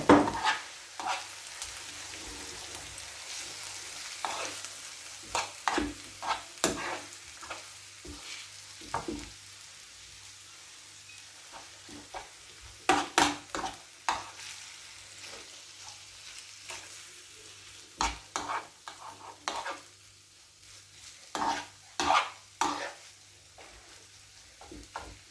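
Garlic frying in a hot pan with a soft continuous sizzle, broken by repeated sharp scrapes and taps of a spoon stirring, some in quick bursts, nearby and without talk.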